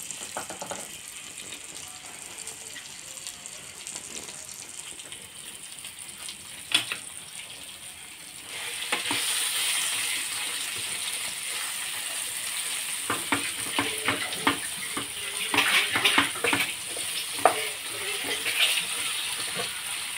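Onions, green chilies and tomato frying for biryani, a soft sizzle with scattered stirring clicks that grows busier and louder after the first several seconds, with no speech.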